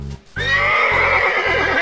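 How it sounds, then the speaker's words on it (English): A young colt gives a loud, close whinny that rises sharply and then wavers in a long shaky neigh lasting over a second, with faint hoof-like thumps beneath. "Let's hear what sound the colt makes! The colt goes..."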